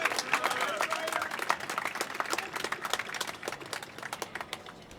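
A crowd at the Everett High School Class of 2023 commencement applauds its teachers with a dense, crackling clapping that fades slightly. The applause sounds somewhat distant under faint talk.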